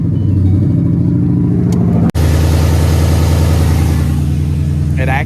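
A Ford Mustang engine fires up for the first time after work, running rough and loud close by, cutting out for an instant, then settling into a steady idle, with a voice briefly heard.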